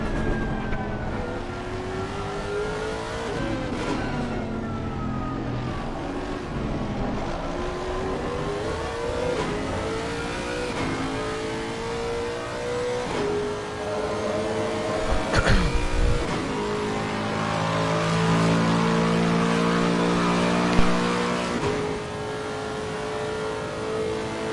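Race car lapping the Catalunya circuit in an NXTGEN race, heard onboard from the driver's helmet camera: a loud, continuous engine rising and falling through gear changes and braking, with harmonics sweeping up and down the whole time.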